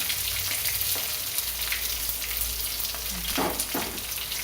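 Green chillies and onion fry lightly in a pan for beetroot poriyal, giving a continuous close sizzle with a few brief stirring scrapes near the end.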